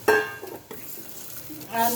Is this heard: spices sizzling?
yes